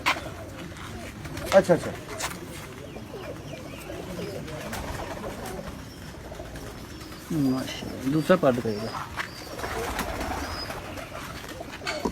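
Pigeons cooing softly in a breeder's loft of pedigreed English-bred birds, low murmuring coos recurring under close conversation between men.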